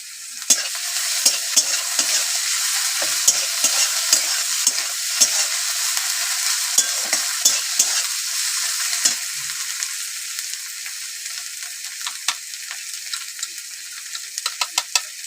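Spice paste fries in a pan under a continuous loud sizzle while a utensil stirs and scrapes it, adding repeated clinks and taps that grow busier toward the end.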